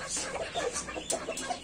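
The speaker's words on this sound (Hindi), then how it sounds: "सब बांग दे रहा जैसे देसी वाला" Desi rooster on a chicken farm giving short clucking and crowing calls, several bursts close by over a busy farmyard background.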